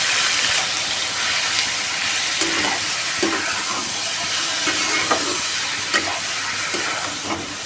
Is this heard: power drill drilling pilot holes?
no